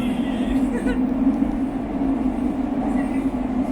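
A Lisbon metro train hums and rumbles steadily from inside the carriage, a continuous low drone with faint rattles, while people talk over it.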